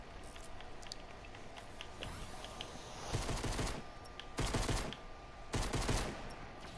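Gunshots in a video game, a hunting rifle among them: faint scattered shots and ticks early, then three loud separate bursts of fire spaced about a second apart.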